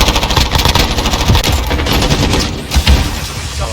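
Rapid automatic hip-fire bursts in the shooter game Call of Duty Modern Warfare, loud, dense rattling shots with a heavier thump near the end, no voices.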